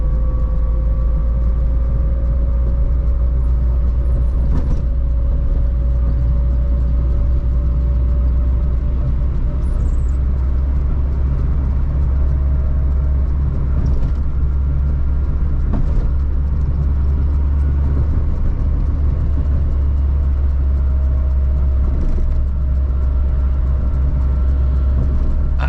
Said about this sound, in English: So maybe I am taking this uphill with my third gear